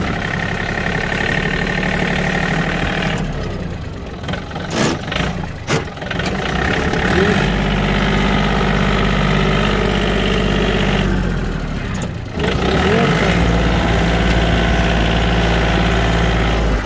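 A Yanmar AF222S tractor engine drones loud and close in second gear, a steady mid-low rumble that dips briefly a few times, with a short lull near the end before the run resumes.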